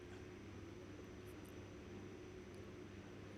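A Pilatus PC-12 turboprop engine runs at takeoff power in the X-Plane flight simulator, a steady, loud drone with a low hum and a high whine throughout.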